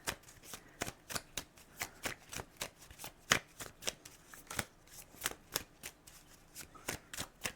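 A Neon Tarot card deck being shuffled in quick, regular riffling bursts, close to the microphone and crisp, with no talking.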